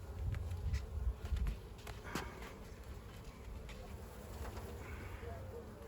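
Honeybees buzzing steadily in an open hive during an inspection, a soft continuous drone with a few louder passes of individual bees close by.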